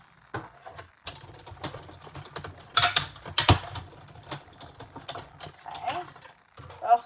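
Paper for a Christmas card being cut, with irregular snips, rustles and clicks close by and a couple of sharper crinkling bursts midway.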